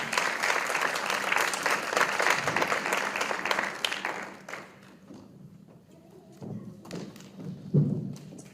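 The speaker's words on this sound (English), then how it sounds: "Let's give them another round of applause" An audience applauds a school performing arts choir at a judge's induction ceremony, with loud, dense clapping for about four seconds that thins out into scattered claps and a few thumps, with low murmuring in the quieter stretch.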